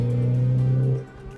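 A stock Mazda Miata MX-5 engine holds a strong, steady drone while driving, loud and close for about a second before easing off, with no talk.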